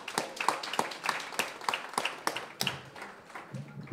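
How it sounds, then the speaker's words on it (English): An audience at a progressive caucus meeting in Burlington claps in a quiet, fairly distant round of applause, separate hand claps audible in an irregular patter that tapers off toward the end. "Can I just get a round of applause for all of you?"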